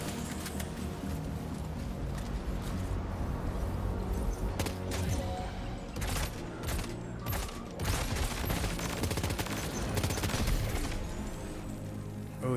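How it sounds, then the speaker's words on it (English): Rapid, sustained assault rifle fire in the video game Death Stranding 2, loud and continuous with dense bursts and mechanical clatter layered over a busy game soundscape. "Let's switch to assault rifle."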